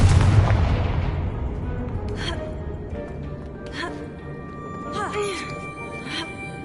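A Confringo blasting spell explodes in Hogwarts Legacy. It is one loud, close burst at the very start that decays into a rumbling tail, followed by quieter magical chimes and whooshes.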